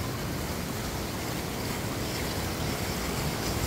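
Steady, dense roar of rushing water close by, directly below a waterfall in a deep mountain valley stream in Gangwon Province, Korea; a constant broadband wash with no pauses and no voices.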